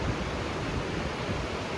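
A mountain river in the Mourne Mountains flows past, a steady, close, unbroken rush of water that holds an even level throughout, with no voices.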